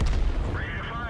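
A tank cannon from the World of Tanks game, a VK 45.03, booms at the start, then a rising mechanical whine follows under a voice talking over the game.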